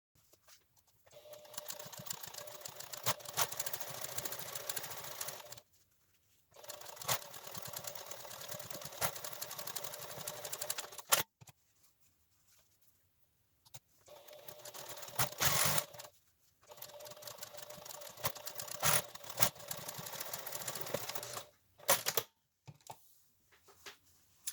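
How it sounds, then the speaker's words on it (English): A sewing machine stitches a seam on a fabric face mask in steady whirring runs of several seconds each, broken by short pauses, with no talking. "now I'm going to sew this seam."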